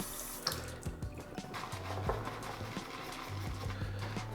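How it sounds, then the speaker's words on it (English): Water runs from a tap in short bursts while a little more is added to shaving cream, with faint splashing and intermittent low knocks over a quiet background. "Just gonna add a little bit more water."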